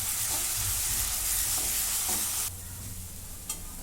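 Spice paste roasting in a pan for a spicy rassa curry, a dense, loud hiss of frying with soft stirring strokes, abruptly quieting partway through to a gentler sizzle with one light clink.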